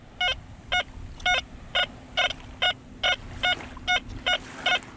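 An XP Deus 2 metal detector sounds a repeated electronic chirping tone on a beach, about eleven evenly spaced short beeps over a low hum of wind and surf, loud and close.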